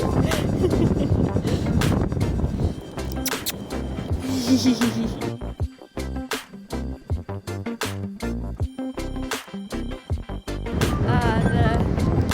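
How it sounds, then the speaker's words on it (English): Gusty wind buffets the microphone outdoors by a van, a heavy low roar at the start and end of the clip, with a voice talking in between. "The wind is starting to pick up now."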